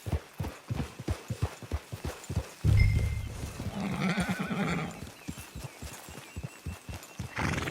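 A horse in the video game Red Dead Redemption 2 clip-clops in a steady rhythm of hoofbeats, then lets out a loud whinny and snorting before the hooves resume, close and clear.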